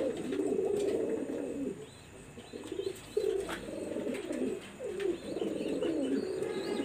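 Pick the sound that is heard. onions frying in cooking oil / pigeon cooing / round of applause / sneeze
pigeon cooing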